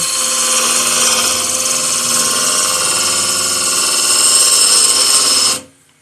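A wood lathe spins a lidded box as the cutting tool slides inward, giving a loud steady whine with a high tonal ring that runs evenly, then cuts off abruptly near the end.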